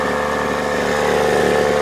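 Tanaka Bumble Bee 3/4HP mini outboard boat motor, under repair for not starting, revving high with a steady, loud, buzzing two-stroke drone held close and continuous throughout.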